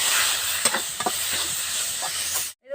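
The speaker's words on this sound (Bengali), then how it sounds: "এই তেলের ভিতরে আমি আবার রসুন ভেজে নিচ্ছি।" Garlic fries in hot oil with a steady, close, bright hiss and sizzle, broken by a few soft clicks of stirring before it cuts off abruptly near the end.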